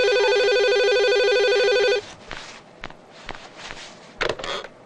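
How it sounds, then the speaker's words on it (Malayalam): A phone rings out on an outgoing call with a steady electronic ringing tone for about two seconds, then it stops and soft rustling and handling noises follow. "കരിമുക്ക ഫോൺ എടുത്ത് മുന്തേട്ടനൊന്ന് വിളിച്ചേ."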